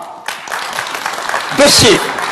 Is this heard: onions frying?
no